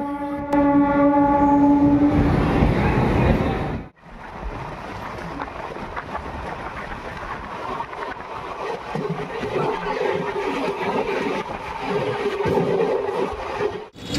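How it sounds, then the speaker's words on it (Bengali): A train horn blares loudly for a few seconds, then a train rumbles and clatters past nearby with a steady rolling roar. "তো কিছুক্ষণ অপেক্ষা করার পর আমাদের ট্রেনও এসে হাজির হয়ে গেল।"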